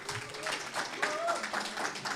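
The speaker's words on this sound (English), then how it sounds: "A round of applause, please," An audience applauds a speaker being introduced at a conference session, a steady patter of hand claps that holds throughout, with voices talking over the clapping.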